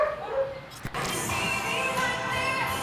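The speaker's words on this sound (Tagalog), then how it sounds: "naririnig nyo ba yung mga tahol na yon?" Dogs bark and whimper amid a busy, noisy street scene in Vigan, Philippines, with steady background chatter and traffic.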